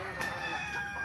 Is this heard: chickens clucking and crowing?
yes